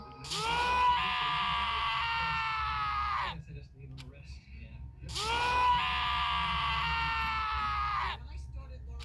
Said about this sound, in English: As Taka's sad screams invaded our skulls